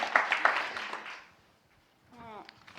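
A round-table audience claps in a burst that fades away within about a second. After a short lull, a voice begins speaking.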